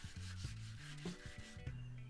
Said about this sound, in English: And then I finished off with a hand sanding.